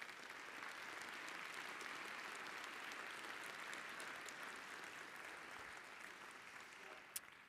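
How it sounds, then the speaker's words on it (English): Steady applause from an audience at a question-and-answer session on the economy, continuous clapping for about seven seconds, fairly distant and quiet, with one sharp knock near the end. "And another round of applause for Mike, Dan, and Dave."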